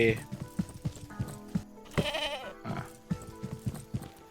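A goat bleats on a farm in the Estate Agent Simulator video game, giving a short wavering cry amid other livestock and clicking game sounds, while a person talks over it.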